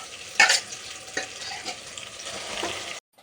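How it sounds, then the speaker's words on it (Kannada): A spice tempering for a leafy-greens massoppu saaru fries in a pan, giving a steady, crackling sizzle. A louder pop or stir comes early on, and the sizzle runs without talk before cutting off abruptly. "ನೋಡಿ ಒಗ್ಗರಣೆ ಒಂಚೂರು ಕುದಿಯೋಕ್ಕೆ ಶುರುವಾಯಿತು"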